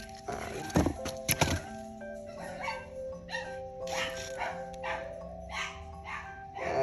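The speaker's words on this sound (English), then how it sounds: "Sorry, that was a dog." Dog barking indoors, a few sharp loud barks early, then quieter intermittent yaps and thuds under a faint tonal background.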